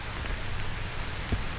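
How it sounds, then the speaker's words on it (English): Steady rain falls on an outdoor disc golf course during a tournament round, a broad continuous hiss of drops with a brief low thump near the end and no talking. "As the rain's starting to pick up"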